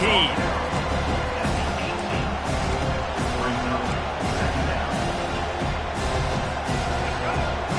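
Crowd noise from a Madden American football video game swells steadily as play-by-play commentary runs over it, with occasional thuds mixed into the broadband roar.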